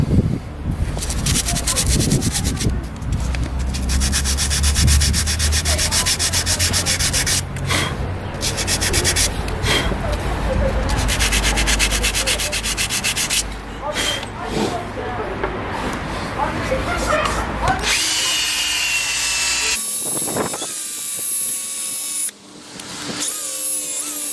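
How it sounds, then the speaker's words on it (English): Steady abrasive rubbing of sanding a split-rim wheel, a continuous rough scratching that shifts and changes tone toward the end, close and fairly loud. "I think I need to do actually a bit more sanding on that area just there."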